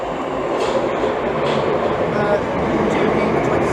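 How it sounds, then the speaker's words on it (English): Electric multiple unit 465004 pulls out of London Bridge station toward Lewisham, a steady loud rumble of wheels and motors rolling on continuously close by. "And 465004 is now departing onto its next stop of Lewisham."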